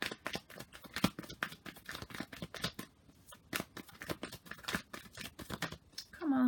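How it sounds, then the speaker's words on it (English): Rapid papery riffling and flicking of cards, a dense run of crisp bursts with a brief lull, close and fairly quiet, no talking. "I'm shuffling the cards right behind the screen for you."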